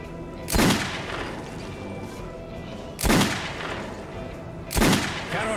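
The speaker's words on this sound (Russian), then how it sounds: "Ну давай постреляем." Three loud, booming gunshots fired a few seconds apart at a shooting range in the video game Metro 2033 Redux, each one followed by a short fading echo and no voices in between.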